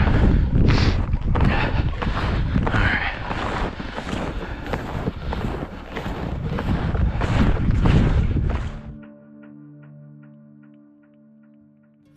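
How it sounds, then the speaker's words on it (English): Strong wind on a winter hike in the Adirondacks, past the edge of the woods, buffets and roars across the microphone for several seconds, gusting in waves, then drops away to a quieter, still background. "it got windy once we broke out of the woods there"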